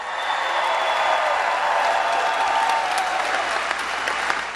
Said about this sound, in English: give him another round of applause for Chief Wiley of West Melbourne.